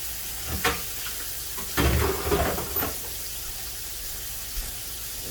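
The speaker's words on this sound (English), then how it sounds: "Move the bacon over to the side so I can put my scallops in here" Scallops searing in a hot pan beside bacon, a steady hissing sizzle with a few louder crackles and bursts.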